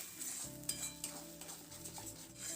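Cabbage is stirred and dried in a pan over a medium flame, with quiet scraping strokes and a faint steady sizzle, close but soft, with no voices.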